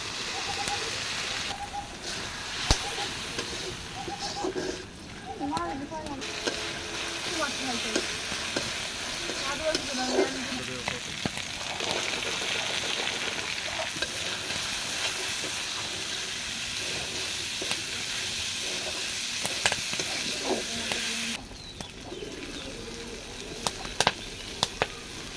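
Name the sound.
water added to frying chickpeas, sizzling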